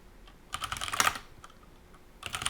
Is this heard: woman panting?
no